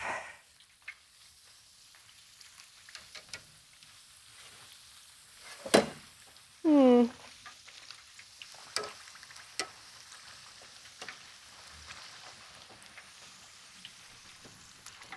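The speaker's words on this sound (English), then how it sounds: "Stirring, yes. Frying." Soft continuous frying sizzle with scraping and occasional clinks of a utensil stirring in a pan, fairly quiet and close.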